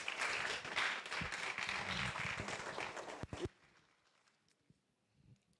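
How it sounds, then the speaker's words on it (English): Dense audience applause at a university colloquium for a department's 40th anniversary, lasting about three and a half seconds before cutting off, followed by a quieter room with faint stray sounds. "A round of applause for her, please."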